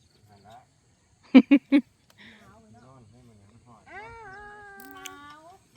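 A domestic cat meows in several drawn-out, rising and falling calls from close by, following three sharp taps, in a rural farm setting with a voice speaking faintly nearby.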